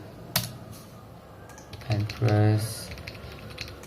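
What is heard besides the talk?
typing on a computer keyboard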